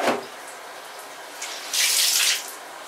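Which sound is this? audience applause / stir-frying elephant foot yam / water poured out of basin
water poured out of basin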